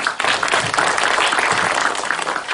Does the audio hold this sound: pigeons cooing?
no